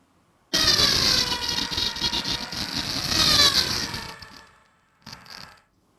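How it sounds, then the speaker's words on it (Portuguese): Formula 1 car roaring past with a high-pitched engine whine that swells and falls in pitch as it passes, fading away before a brief second burst of engine noise. "consequência do movimento relativo do carro de Fórmula 1, que é a fonte sonora, e o observador"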